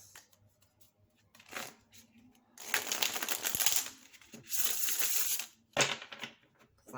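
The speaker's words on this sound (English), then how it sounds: "Let's see how it shuffles." A new Green Witch tarot deck being shuffled by hand, with a short riffle followed by two long, loud bursts of rapid card flutter and a final snap, close up and free of talk.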